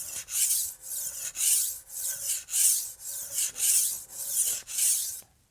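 A Wusthof Classic chef's knife is drawn across a whetstone in about ten regular, close rasping strokes, each a bright scraping swell with short pauses between them and no speech.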